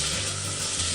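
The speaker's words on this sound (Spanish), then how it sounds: "En una cacerola con aceite caliente empezamos por freír la cebolla" Onion frying in hot oil in a pot on the stove, a steady close sizzle with soft crackle running the whole second without a break.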